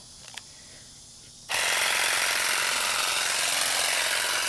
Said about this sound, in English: I wonder if this will trim, see like these straggly ends of the grass?